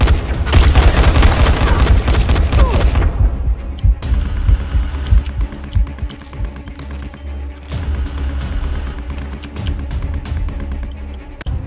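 Rifle gunfire in the zombie video game Dying Light, a loud dense burst of rapid shots at first, then scattered sharper reports and booms over a low hum.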